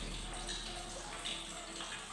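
Water runs steadily from a long-broken tap in a shabby dormitory washroom at the National Aviation University in Kyiv, a faint continuous splashing hiss in a reverberant room.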